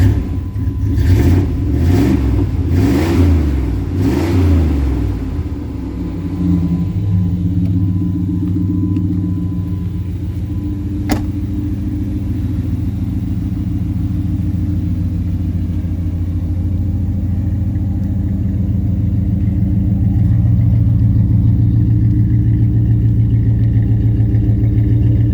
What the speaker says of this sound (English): Listen to that Flowmaster exhaust.